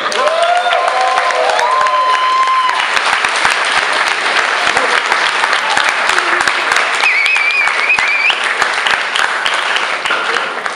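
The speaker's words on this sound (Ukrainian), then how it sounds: "Аплодисменти!" Sustained audience applause at an improvised stage for a startup seminar: dense, continuous clapping from a large crowd with some whistles and cheers mixed in, loud throughout with no break.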